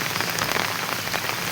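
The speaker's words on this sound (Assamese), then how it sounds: "পুৰা বৰষুণ পৰি আছে একদম এতিয়া" Heavy rain pours down steadily, a dense, close hiss of drops striking surfaces with no pause across the short stretch.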